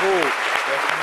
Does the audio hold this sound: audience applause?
yes